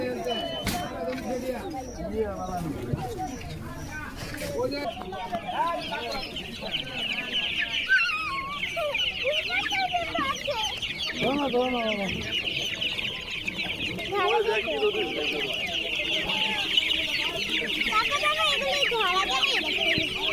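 Chickens and chicks cluck and peep continuously at a busy village livestock market, while people talk and bargain over them throughout.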